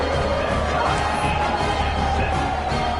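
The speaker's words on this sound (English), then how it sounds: "this crowd is buzzing after that last score" A football stadium crowd hums in a steady, loud wash of murmur and distant cheering that holds unbroken throughout.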